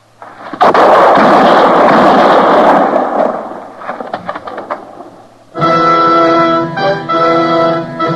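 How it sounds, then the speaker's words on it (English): Gunshots ring out as radio drama sound effects in a Western setting. A loud, sustained burst of cracking blasts is followed by scattered quieter reports, then a bright, tonal ringing sound close by. "I heard the shots, Matt."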